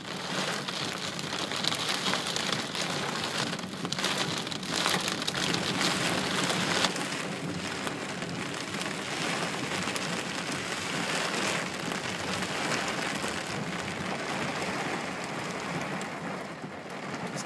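Heavy rain pours steadily during Colorado floods, a dense, loud hiss of drops drumming on surfaces, continuous and close throughout with no voices.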